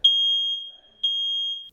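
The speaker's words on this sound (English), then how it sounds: "So did you just hear the alarm just right when you lifted up? Because it was going off for 5 minutes almost." A smoke alarm sounds during a home fire test, sending out two loud, piercing steady beeps about a second apart with a brief gap between them.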